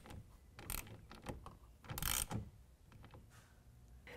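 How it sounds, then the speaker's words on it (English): A 1/4 inch Allen wrench snugging a bolt on a Gator Recoil retractable tonneau cover rail on a Ford F-150. There are close metallic clicks and ratcheting scrapes in short bursts, with a couple of louder clanks. "We're going to use a 1/4 inch Allen wrench and tighten that down."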